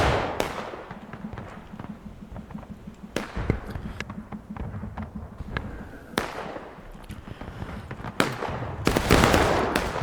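Civil War-era gunfire and artillery in the game War of Rights: scattered sharp rifle cracks ring out, with several louder booms and a heavy blast toward the end.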